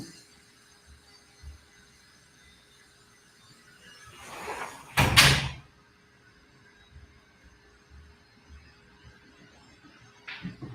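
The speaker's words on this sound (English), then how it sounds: "I gotta close this door." A door slides and shuts with a single short, sharp thud in a quiet room, preceded by a soft scraping swell and followed by faint small knocks.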